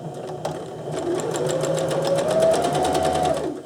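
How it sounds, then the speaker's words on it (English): A sewing machine stitches an elastic casing on fabric for a surgical scrub cap, running loudly and continuously close by with a rapid, steady mechanical chatter that speeds up slightly partway through. "you're going to sew a casing to hold the elastic in place."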